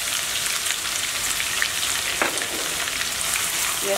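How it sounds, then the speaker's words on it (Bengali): Chopped onions frying in hot oil in a pan for a yogurt chicken dish, a steady, moderately quiet sizzle with faint crackles and one brief scrape of stirring. "পেঁয়াজটা আমি একটু ভেজে নিব ব্রাউন কালার হওয়া পর্যন্ত।"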